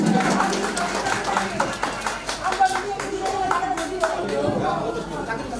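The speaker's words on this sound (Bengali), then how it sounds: "সবাই আমরা আবার একটু জোরে করতালি জানি" Audience applause at an award ceremony during a prize presentation at a gathering, with dense clapping running steadily throughout, mixed with crowd chatter and a voice over the hall.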